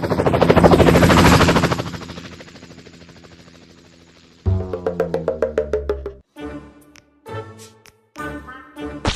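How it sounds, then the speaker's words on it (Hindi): A cartoon helicopter stolen from the Pakistani army makes a loud rotor roar that fades as it flies away, followed by a quieter stretch of rhythmic chopping and thumps with short gaps between them. "ये हेलीकॉप्टर लेके भाग रहा है"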